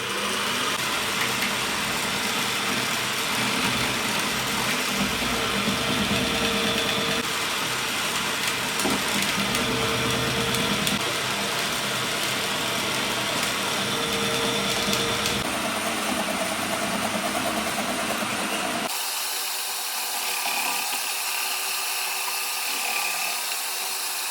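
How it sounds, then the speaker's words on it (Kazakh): A Kenwood kitchen machine running its vegetable slicer attachment hums with a steady, close motor whine while shredding cabbage, continuous and even for most of the stretch before the tone drops and thins near the end. "Машинаның моторы жұмыс істеуі қосылады. Енді барып скоростьті жоғарылатамыз."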